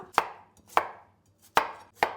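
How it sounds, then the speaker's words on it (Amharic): Potatoes being chopped with a knife on a cutting board, four crisp sharp chops in an uneven rhythm, close and clear with no talk. "ድንቹን በመጀመሪያ እንደዚህ ከትፈውና"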